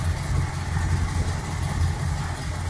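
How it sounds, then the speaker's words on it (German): A Corvette C2/C3 V8 idles steadily at close range while the distributor is turned to advance the ignition timing, a low rumbling drone with a slight waver in engine speed and no talking. "Man hört auch, die Drehzahl verändert sich."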